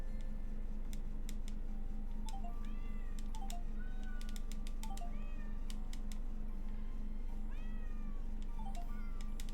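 A video game cat meows repeatedly, several short bent mews at irregular intervals over a constant low game hum, with sharp ticking clicks sprinkled between them.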